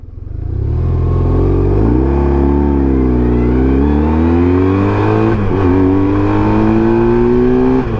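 A heavy BMW R1150RT touring motorcycle accelerates hard from standstill toward 100 km/h, its engine note loud and close, climbing through gears with a brief dip at each shift.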